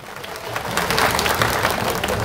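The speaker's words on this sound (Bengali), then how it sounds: "আসুন আমরা আমাদের এই উৎসবের সময়টাকে করতালি দিয়ে সবাইকে অভিনন্দিত করি।" A crowd at a Tripura community's Boisu festival procession claps in a short burst of applause, a busy, close patter of many hands lasting a couple of seconds.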